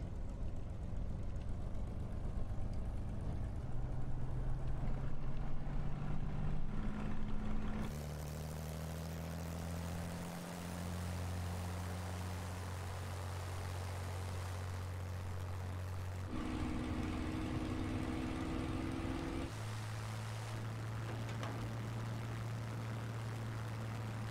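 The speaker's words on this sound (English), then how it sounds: "we'll leave the cockpit open for now so you can hear the engine sounds" Propeller aircraft engine in a flight simulator game during a straight takeoff with flaps up, a steady droning hum whose pitch steps up and down as power changes, loud and continuous with no talking.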